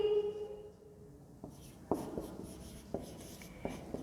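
Chalk or marker tapping and scratching on a classroom board during an English lesson, in short separate strokes with pauses between, fairly faint and close.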